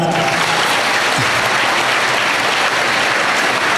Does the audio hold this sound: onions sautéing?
no